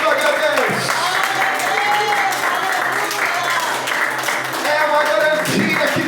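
A church congregation claps and applauds continuously at close range, giving a dense, loud sustained patter, while a preacher's voice carries over the top.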